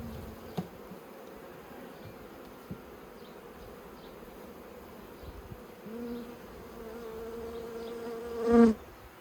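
A continuous low hum of honey bees inside a hive set up for queen rearing, with a couple of faint knocks and a brief louder swell near the end.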